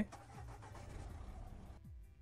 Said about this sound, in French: tu démarres le moteur